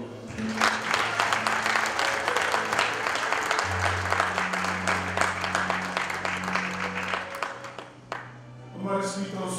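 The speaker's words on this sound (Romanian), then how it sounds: "Și pentru aceasta vrem să aplaudăm prezența lui." An audience at a church family conference claps. The crisp, dense applause carries a sustained organ or keyboard tone beneath it, then fades out toward the end.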